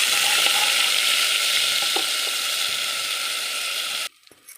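Ginger, garlic and cashews crackle in hot oil with cinnamon for coconut-milk ghee rice, a loud continuous close sizzle with a few ticks that cuts off abruptly near the end.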